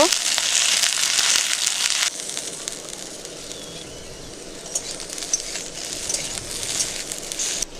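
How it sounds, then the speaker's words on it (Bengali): Okra (bhindi) frying in hot oil for a Bengali mixed vegetable curry, a loud continuous hiss that drops in level partway through and then carries on more softly, with occasional light crackles and no one speaking. "ভেন্ডিগুলো ভেজে নেব যাতে কাঁচা গন্ধটা চলে যায়"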